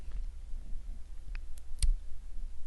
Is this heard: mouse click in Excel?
yes